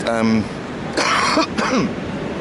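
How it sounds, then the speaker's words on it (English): A man coughs and clears his throat a couple of times, close and harsh, after a brief bit of voice at the start. "that was just me coughing"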